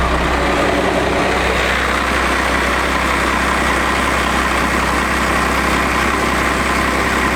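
A 24-valve Cummins diesel truck engine idles just after starting, a loud, steady, close low rumble with constant vibration and no change across the whole stretch.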